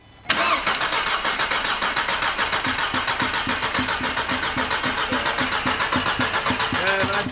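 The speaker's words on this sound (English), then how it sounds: "how long am I cranking for" A VW Mk5 GTI engine cranks over with its ignition coils removed, so it never fires. The starter churns in a loud, close, steady rhythmic chug that runs for about seven seconds.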